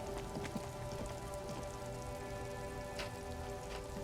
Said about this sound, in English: raining outside for real